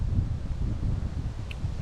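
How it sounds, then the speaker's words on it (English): Steady low roar of strong wind buffeting the microphone in a Maryland Eastern Shore marsh, constant and rumbling with no voices. "been kind of crazy weather. Very windy, very high winds"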